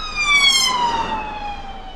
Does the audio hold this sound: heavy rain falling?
no